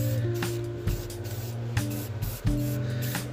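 Black paint sprays onto a test piece in a steady, close hiss, broken by several brief pauses and short trigger restarts.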